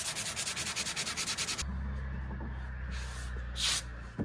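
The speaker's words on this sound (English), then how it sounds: "so I'll give that a light sand" Light hand sanding of a cracked, rough surface before wrapping: quick rhythmic back-and-forth rasping strokes for over a second, then a steadier, quieter scraping rub close by.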